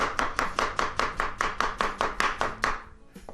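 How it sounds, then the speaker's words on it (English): A knife chops zucchini on a cutting board in quick, even strokes, about a dozen crisp close knocks in a steady machine-like rhythm that slows and stops near the end. "Chopping the zucchini."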